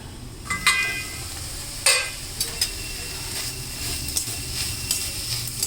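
Amaranth greens with lots of garlic fry on low heat in a pan, a steady sizzle and hiss under occasional sharp clinks and scrapes of a spatula, close and fairly loud, no speech.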